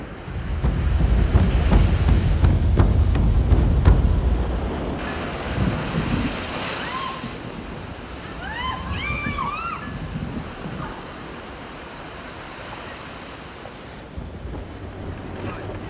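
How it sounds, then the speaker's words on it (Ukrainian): Ocean surf and gusting wind on the Iceland coast, loud and rushing at first with wind buffeting the microphone, then easing into a softer, steady wash with faint high chirping calls in the background. "Це Ісландія, це океан."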